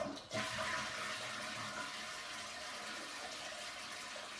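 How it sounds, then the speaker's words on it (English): A household toilet with a hissing fault flushes, opening with a brief clunk of the handle and then a steady rushing swirl of water draining from the bowl, close and continuous, with no one speaking. "let's go ahead and give it a flush"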